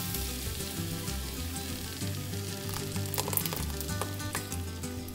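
Tomato salsa poured into a hot pan with poblano chile strips, a loud continuous sizzle and crackle close by, with scattered spits and pops and no voices.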